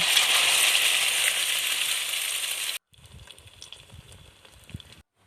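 Fried eggs sizzle loudly in a pan for nearly three seconds, then the sound drops to quieter kitchen clatter and faint crackling.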